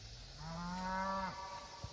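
A beef cow with spring calves on pasture gives one long, drawn-out moo that rises slightly and then cuts off, fairly close and clear over light outdoor background noise.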